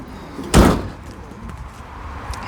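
The sliding side door of a 2016 Renault Kangoo Z.E. long-wheelbase electric van is shut with one firm, close thud, followed by quiet ambient background.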